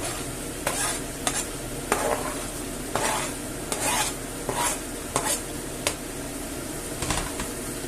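Onion frying with partly cooked potatoes in a pan for a Galician-style small omelette, a constant close sizzle broken by regular scraping stirs roughly every half second to second.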